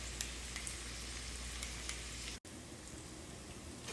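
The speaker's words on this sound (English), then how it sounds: "The onions are still cooking." Onions cook in a pan for Vidalia onion dip, giving a faint, steady sizzle and crackle with a brief dropout partway through and no voices.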